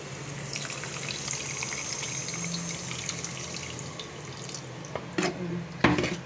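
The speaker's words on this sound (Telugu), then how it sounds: "ఇప్పుడు కొంచెం వాటర్ వేసుకుందాం." Water poured from a small glass into a pan of frying bitter gourd for masala, a steady splashing trickle that builds into louder bursts near the end, no voices.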